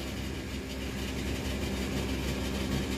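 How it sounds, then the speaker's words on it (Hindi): A Farmtrac 60 Deluxe 2007 rotary-pump diesel tractor runs with a loud, steady, close engine drone and no pauses or talk. "रोटरी पंप ट्रैक्टर है ये, फार्म ट्रैक 60 डिलेक्स 2007 मॉडल।"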